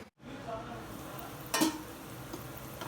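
Capsicum cooking in a pan sizzles steadily while a spoon stirs it, with one short, sharper scrape and clatter in the middle, close and without talk.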